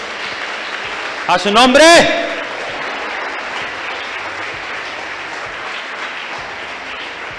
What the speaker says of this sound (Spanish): Vamos a aplaudir al Señor Jesús.